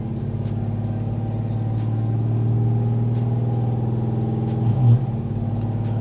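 A Texas Speed Stage 4 Chevrolet Silverado with a 5.3 V8 drives along with a steady low engine drone from inside the cab, rising slightly mid-way with a brief surge near the end.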